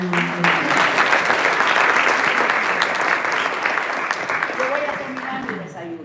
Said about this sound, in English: another round of applause for the chairwoman, the Honorable Ian